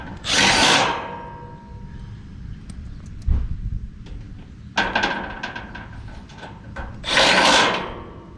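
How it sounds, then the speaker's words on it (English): Power drill driving screws back into a York air conditioning unit's panel during a not-cooling repair, with two loud whirring bursts at the start and end and clicks and handling knocks between them. "Let me get some screws back in."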